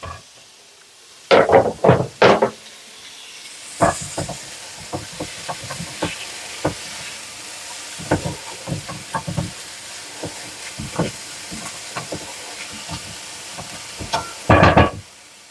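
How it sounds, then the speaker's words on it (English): Food sautéing in a pan for cowboy beans: a soft steady sizzle under a run of sharp utensil scrapes and clanks against the pan, loudest at the start and again at the end, with no talking. "let's just tender these up just a wee bit. Let's saute them."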